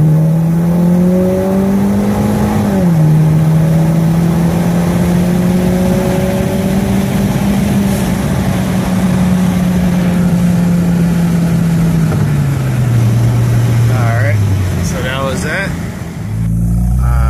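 A 2013 Hyundai Sonata 2.0 Turbo with methanol injection drones loudly during a test drive, engine pitch climbing and shifting through gears with a rising then falling tone, briefly easing near the end.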